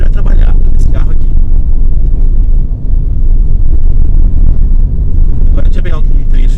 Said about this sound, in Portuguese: Você ouve assim um pouquinho do motor.